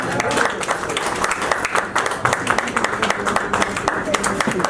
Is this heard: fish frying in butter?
no